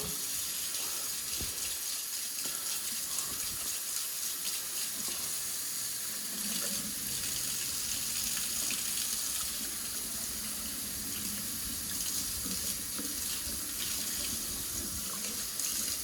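Water runs steadily from a kitchen faucet in a house with a double oven, a constant close hiss and splash that continues without pause.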